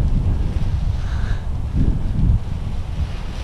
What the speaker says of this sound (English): That's some crazy wind up there, guys.